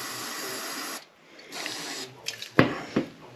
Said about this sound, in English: I'm just going to spray the surface of the brake pad to blow away any dirt.